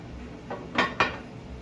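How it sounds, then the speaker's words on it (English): A metal lid is set down on a pot of jambalaya: a soft touch followed by two quick, close clanks of metal on metal. "So I'm going to close the pot"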